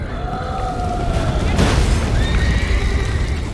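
A horse in The Witcher 3 gives a loud whinny over a dense rumble of game effects and a sudden booming blast, with long tonal whines drifting through the mix.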